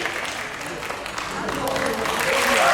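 Audience applause at a Korean ventriloquism show in Iksan, steady, continuous clapping from a crowd that gradually grows louder toward the end.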